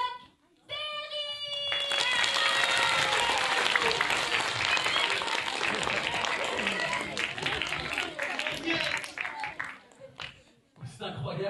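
Audience at a children's guitar show bursts into loud, sustained applause with cheering as a rock-and-roll star is introduced, the clapping dense and steady before fading near the end.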